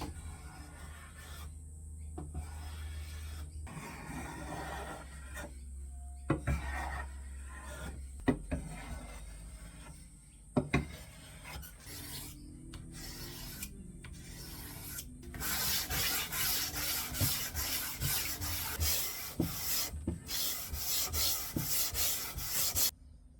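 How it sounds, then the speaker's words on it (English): A hand plane works over a cello fingerboard in a violin maker's workshop, giving repeated rasping strokes of varying length with short pauses and a few knocks, then a denser run of scraping toward the end. "So I'm currently planing the fingerboard."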